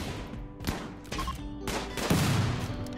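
Gunfire rings out in the RimWorld strategy game, several sharp bursts of shots in an irregular rhythm, fairly loud and close, with no talk over them.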